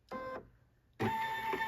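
Brother NQ3550W embroidery machine stitching an applique placement line: two bursts of mechanical whirring and rapid needle stitching, a short one then a longer one after a quiet pause, heard close and moderately loud.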